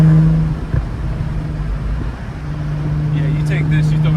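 A Jaguar F-Type convertible with a manual gearbox accelerates, its engine a steady droning hum heard from inside the cabin, with people talking over it.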